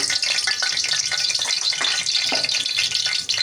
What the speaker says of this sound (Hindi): तो इसी ऑयल में यहाँ पे मैं 2 चम्मच भर के देसी घी को ले रही हूँ, ये भी शामिल कर देंगे।